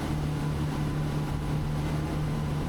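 A Jeanneau TH38 power catamaran runs on its engines at around 4,800 RPM and 30 mph, giving a steady, even drone with a low tonal hum and wash of water noise, no voices.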